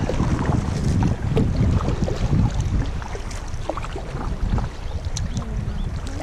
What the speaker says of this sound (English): We still have a little swirly water here.